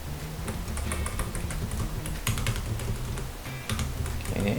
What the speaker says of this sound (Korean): 복제해서 컨트롤 D 키를 눌러서